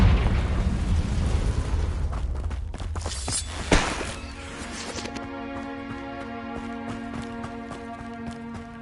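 A Confringo explosion spell goes off in Hogwarts Legacy with a loud, broad blast and a sharp burst near the middle. Tonal game music rises afterward.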